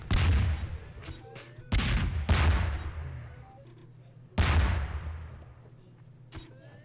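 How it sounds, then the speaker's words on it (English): Gunfire in the video game Garry's Mod, several loud sharp shots in irregular succession, each with a decaying rumble, over a low engine-like hum, no speech. "Oh, who's popping off rounds"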